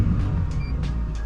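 A Porsche Cayenne 3.0 E-Hybrid idles with its QuickSilver stainless exhaust valve open, a steady low rumble close to the tailpipes with faint periodic whooshes over it.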